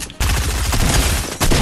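Rapid, loud gunfire from a Fortnite match rattles out in a sustained burst of closely spaced shots, close and dominant, briefly cutting out before another blast at the end.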